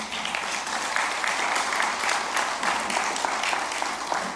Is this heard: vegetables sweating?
no